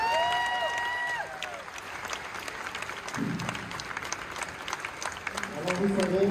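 An audience applauds a French singer with steady crowd clapping heard at moderate distance, mixed with faint tonal music and a brief low murmur partway through.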